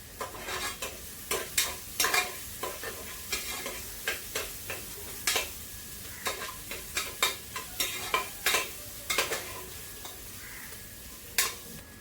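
Onions sizzle steadily in a hot pan while a utensil scrapes and clacks against the metal in a quick, irregular stirring rhythm.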